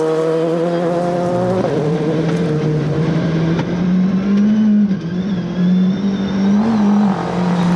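A rally car with a new gearbox, driven at maximum attack on a gravel stage, roars close by with a strong engine drone, a sharp gear change early on and repeated surges in revs.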